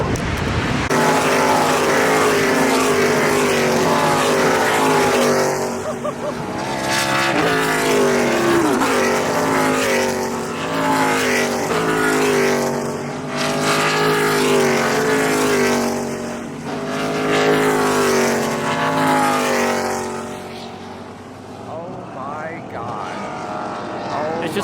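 NASCAR stock cars roar past at Lime Rock Park, a loud sustained engine drone with rising and falling pitch sweeps as the cars come around, heard from the pits with some talking mixed in.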